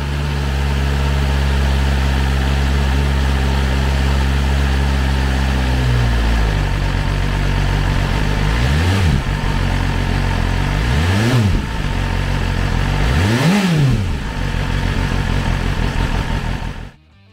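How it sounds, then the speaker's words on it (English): A 2023 BMW S1000RR with its 999cc four-cylinder engine idles steadily and loudly up close, then the rider blips the throttle three times, each rev climbing sharply and falling back to idle. "999cc engine, the S1000RR puts 207 horsepower and 83 foot-pounds of torque through a 6-speed transmission."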